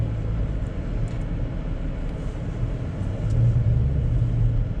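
Steady low engine rumble and road noise from a car driving between apartment blocks in the town of Mirny, Yakutia, heard from inside, continuous and fairly loud with a slight swell near the end.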